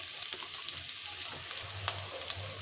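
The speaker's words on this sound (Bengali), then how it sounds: "পেঁয়াজটা আমি খুব সুন্দর করে একটু ভেজে নিব" Chopped onions fry in hot oil with a soft, even sizzle and a few faint stirring sounds, close but quiet.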